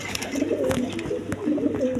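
A pair of yellow-coloured pigeons, proven breeders, coo softly in a steady low rolling rhythm, close by, with faint background noise and no talk.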